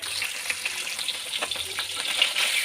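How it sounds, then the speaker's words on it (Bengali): Fish heads and potato pieces fry in hot oil, giving a steady close crackling sizzle with small pops and spits throughout, no voices. "মাছের মাথা আর আলু এইভাবে ভেজে নেবেন সুন্দর করে।"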